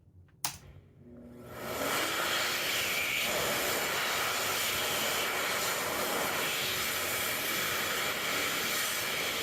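Xlerator hand dryers in a Walmart restroom start with a click and a quick rise, then roar as a loud, steady high-pitched rush of air that carries on without a break.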